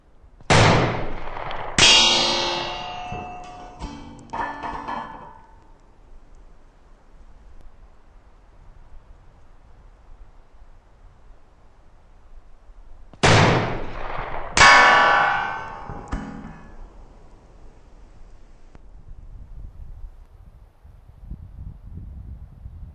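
Rifle shots ring out at metallic silhouette targets in two separated bursts, each a sharp crack followed by clanging metallic rings that fade into a quiet outdoor background.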